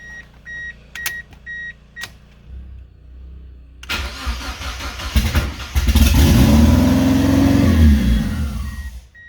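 A forged 1.9-litre Mazda Miata engine: a few electronic beeps and clicks, then the starter cranks, the engine catches and revs up loud and close before settling back toward idle.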